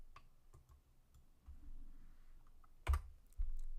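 Computer keys pressed and a mouse clicked during 3D beam modelling software work, a few soft taps and one sharper click in a quiet room, close and faint.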